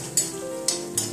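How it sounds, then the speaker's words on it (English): Steady sizzling of cumin powder frying in a pan, with three brief scraping stirs, close and continuous. "now I should fry it well so that all the raw flavors are gone"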